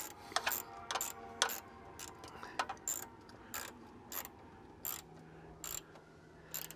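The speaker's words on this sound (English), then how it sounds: "go ahead and use your ratchet" A hand ratchet snugs up the small terminal bolts on a car battery, clicking in short quick bursts of several pawl ticks each, repeated at a steady pace, close and fairly quiet with no talk.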